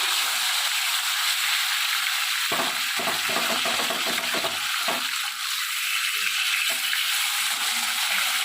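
Pieces of fish frying in hot oil in a pan for a Bengali fish jhal, a constant loud crackling sizzle with a few brief utensil scrapes and bubbling bursts.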